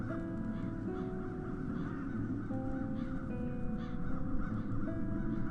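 Crows caw in the fantasy adventure game The Dark Eye: Chains of Satinav, with harsh calls repeating over a steady droning ambient music bed at moderate loudness and no voices.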